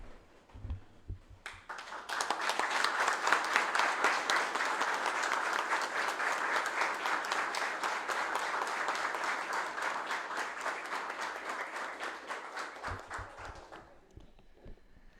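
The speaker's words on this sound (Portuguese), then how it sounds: "convidamos a todos os presentes para se colocarem em pé e dessa forma homenagearmos os alunos e o professor Leandro Kiss com uma salva de palmas" A standing audience in a municipal council session claps in sustained, dense applause honoring students and a teacher, rising quickly and holding steady for about eleven seconds before tapering off, with faint voices at the edges.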